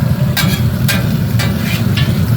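Meat searing in a hot pan, cooking toward 160 degrees, gives a steady close sizzle with a low rumble, broken by a few short bright scrapes or pops at regular intervals.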